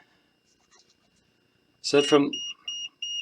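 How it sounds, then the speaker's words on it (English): A short burst of speech, then three high, evenly spaced electronic beeps from an electricity meter, clear and close. "the meter's beeping"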